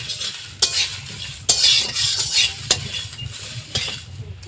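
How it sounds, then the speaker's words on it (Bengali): Whole spices frying in a hot wok (kadai) while being pickle masala for a jujube (kul) pickle, with a steady sizzle and four sharp scrapes of a stirring spoon against the metal, close and alone. "কড়াইটা আমার গরম হয়েছে এবারে আমি সব মশলাগুলো দিয়ে দেবো"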